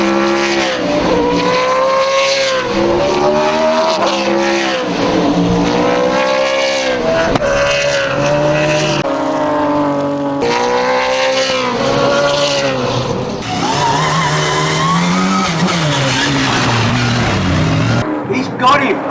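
Touring race cars from the 1968 Australian championship, including a Ford Mustang, roar past with engines revving and rising and falling in pitch, loud and close, continuous for nearly twenty seconds under an excited commentator's voice.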